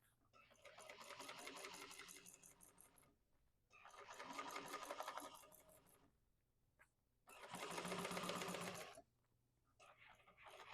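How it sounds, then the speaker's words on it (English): A sewing machine top stitches along the folded edge of a fabric bag in three sustained bursts of rapid, steady needle chatter, separated by short pauses, with faint talk in the quiet gaps. "we're going to top stitch across the top there, that top folded edge, and then across the bottom folded edge as well"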